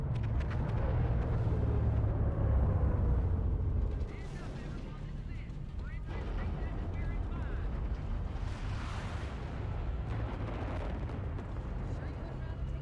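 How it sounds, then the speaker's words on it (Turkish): Heavy rumbling explosions and debris roar as a ship blows apart in Halo: Combat Evolved, loud and sustained at first, then easing into a continuous lower rumble with further bursts, a voice talking over it. "Ha bizimki patlıyor."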